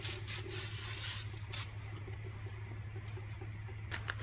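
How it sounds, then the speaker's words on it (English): Brake cleaner hisses from an aerosol can onto the rear brake parts of a Ford Escape or Mazda Tribute, a few short sprays close by over a low steady hum. "Clean it up with a little brake clean."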